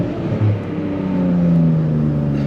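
A Nissan 370Z Nismo with a slightly slipping clutch accelerates hard, its engine a loud, close, steady drone that climbs in pitch through the pull.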